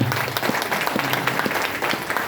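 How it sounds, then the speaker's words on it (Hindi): An audience claps loudly in honour of a guru, MM Alam, at an LDP program in Keva; dense, steady applause fills the whole stretch with no voices over it. "मैं चाहूंगा हमारे ग्रेट गुरु मिस्टर MM आलम सर के लिए एक बार जोरदार तालियां।"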